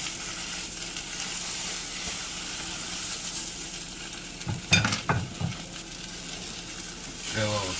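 An omelette doused in hot sauce sizzles steadily in a pan on the stove, then a cluster of thumps and scrapes as it is flipped, with a brief scrape again near the end.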